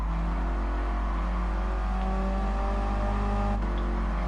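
A Mini's engine revs steadily in the racing game Gran Turismo Sport, a continuous loud droning hum with sustained tones that rise slightly toward the end, with no talking.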